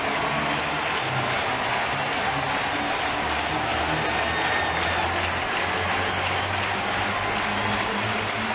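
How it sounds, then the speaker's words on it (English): Crowd at a Milwaukee at St. Louis baseball game in a stadium, a loud, continuous roar of cheering and applause that holds steady throughout, broad and distant-sounding with no clear speech on top. "listen to the crowd"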